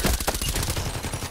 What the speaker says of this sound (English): now I just have to go for the headshot